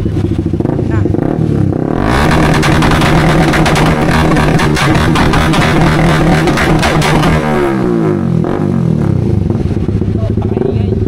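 Close, loud revving from a Honda Winner X motorcycle with a replica Pro Liner exhaust pipe: a rumbling idle climbs into a sustained raspy high rev, then falls back to idle, with a voice briefly heard.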